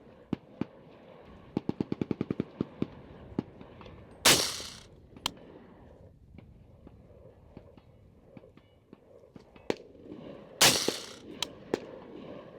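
Colt CAR-A3 HBAR Elite rifle shots fired outdoors, with two loud sharp cracks several seconds apart, each followed by a brief ringing decay. Quieter clicks and handling sounds fill the gaps between them.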